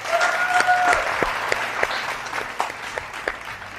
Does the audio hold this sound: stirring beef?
no